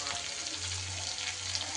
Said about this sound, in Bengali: মাছটা দিয়ে মাছের যাতে আঁশটে গন্ধ না লাগে ভালো করে একটু ভাজা ভাজা করে নিতে হবে